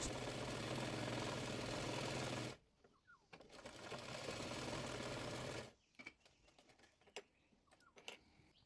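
A sewing machine stitching palazzo trousers, running in two close, steady bursts of rapid mechanical chatter separated by a short pause, then quiet clicks and handling sounds as the fabric is adjusted.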